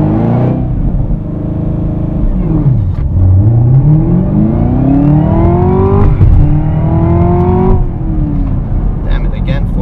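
A 2017 Chevrolet Camaro ZL1 with a manual gearbox launches hard from a standstill for a 0-60 run. The engine roars loudly, rising in pitch through the revs, with gear shifts dropping it near three and eight seconds.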